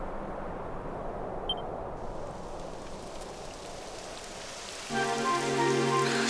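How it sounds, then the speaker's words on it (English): Rain in Dragon Quest XI begins as a steady hiss of falling drops that thickens over several seconds, with a bright tonal game sound entering near the end. "It would have to go and start raining, wouldn't it?"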